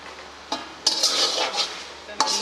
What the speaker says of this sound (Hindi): इसे भूनते रहेंगे उतनी देर तक जब तक इसका पानी बिल्कुल खुश्क नहीं हो जाता।